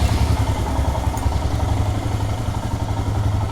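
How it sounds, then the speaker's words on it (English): A warmed-up Royal Enfield Himalayan motorcycle engine idling, a steady close low throb with a fast even pulse and faint mechanical clatter, unbroken for a few seconds with no talking. "So I had already started the bike and warmed it up."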